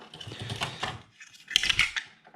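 A Commodore MPS 1230 dot-matrix printer clatters and whirs in short mechanical bursts while feeding single sheets of paper, quiet and close, with a brief pause between the two bursts.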